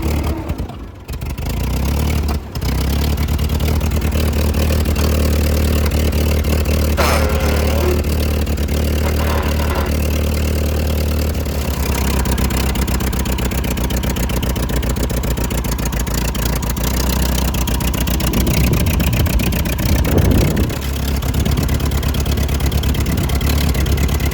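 A restored Ford 8N tractor engine runs steadily at close range, a loud continuous low rumble with a slight rise near the end, while the clutch is slowly brought back in.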